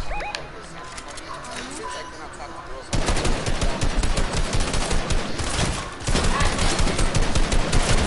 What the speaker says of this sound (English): Pull out the shotgun.